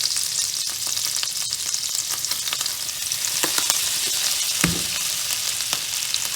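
Garlic and onion powder sizzle loudly in a hot pan, a steady close frying hiss broken by a few scattered pops and one brief thump, with no talking.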